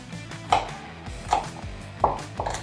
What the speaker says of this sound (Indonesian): Kita potong-potong dulu bawang bombaynya.